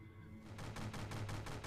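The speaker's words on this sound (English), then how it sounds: "The tunnel detonated with gunfire." Gunfire erupts inside a tunnel: after a brief low rumble, loud rapid bursts of automatic fire pound out in a fast, even rhythm and keep going to the end.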